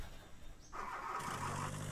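A diesel truck engine cranks and catches in The Long Drive, a brief starter whine followed by the engine settling into a steady low idle rumble.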